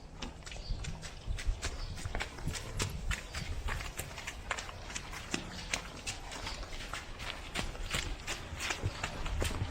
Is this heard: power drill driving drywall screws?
no